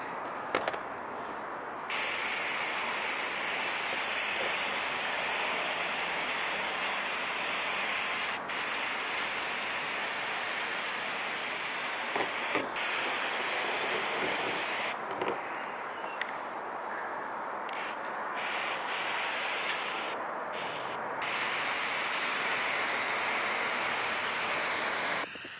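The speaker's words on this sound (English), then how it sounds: "I'm gonna spray the hell out of it." Aerosol sealant sprayed from a spray can inside a van, a steady loud hiss that runs almost the whole time with a few brief pauses between bursts.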